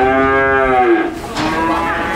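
Cattle moo loudly and close by at a livestock sale, one long drawn-out moo sliding downward, followed by a second lowing call.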